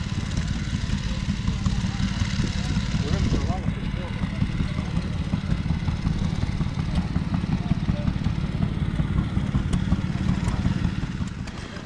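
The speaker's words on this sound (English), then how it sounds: "You either love or hate these hit and miss engines. They just sit there all day, popping away at irregular intervals." Hit and miss stationary engines running at a steam rally, irregular low popping and chuffing under continuous outdoor background noise, with someone talking over the sound.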